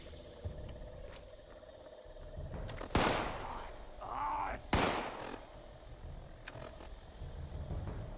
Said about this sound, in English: There is an asshole still shooting at me.